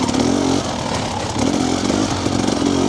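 The engine of a throttle-body fuel-injected motorcycle runs at low RPM with a close, loud, steady rumble whose pitch rises and falls slightly, with no talking.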